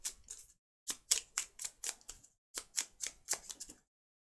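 Board game construction cards riffle-shuffled by hand in three quick bursts of crisp, fluttering snaps, close up and clear, with short pauses between bursts and no talking.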